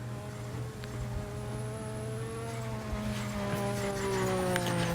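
Race cars in a 1986 Japanese GP race speed by with a steady, loud engine drone and harmonic whine that rises slightly near the end, heard alone without talk.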